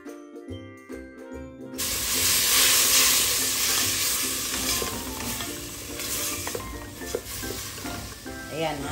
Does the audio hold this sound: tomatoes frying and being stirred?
yes